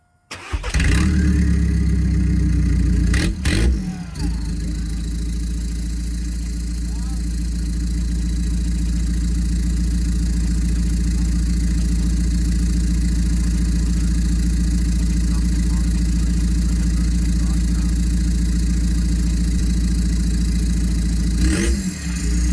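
A 2014 VW Passat 2.0 TDI diesel engine cranks, catches and then idles steadily, a loud, close, continuous low rumble that runs alone with a brief crank sound near the start and another near the end.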